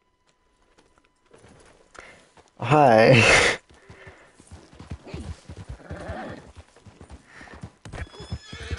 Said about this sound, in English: I'll just grab my horse that's for some reason here.